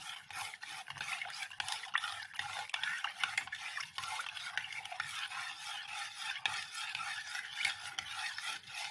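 Cold milk with sugar, milk powder and starch being stirred in a pot for homemade ice cream, a steady close scraping and swirling of a utensil, continuous and even, with no talk.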